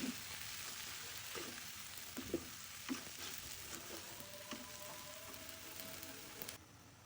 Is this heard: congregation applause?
no